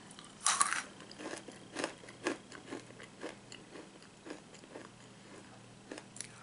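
Crunchy salted caramel pretzel pops being bitten, one sharp loud bite followed by a series of crisp crunching chews spaced at irregular intervals, close and alone.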